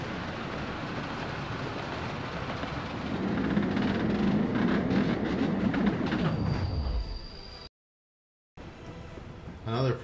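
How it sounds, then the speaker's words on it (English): Trains rumble and clatter steadily in the Workers & Resources: Soviet Republic video game, a dense rolling rail noise with wheel squeal that fades out, briefly drops to silence, then resumes faintly. "is just sounds of these trains running back and forth"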